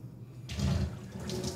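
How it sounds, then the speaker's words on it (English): A person drinking water close by, a short wet sloshing and gulping sound that swells after a quiet start and lingers for about a second. "You get to see me drink water."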